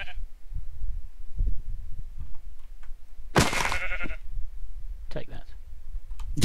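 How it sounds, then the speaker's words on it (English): A sheep in a video game bleats once loudly mid-clip with a shorter bleat later, over low rumbling noise and soft clicks; a voice may murmur faintly. "That's a sheep."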